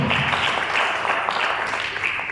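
Sustained applause from a church congregation during a Spanish-language worship service, a steady dense wash of clapping at even loudness throughout, with no voices standing out above it.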